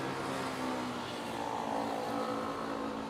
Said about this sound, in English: I hear the engine of the Cebu pack. There she goes.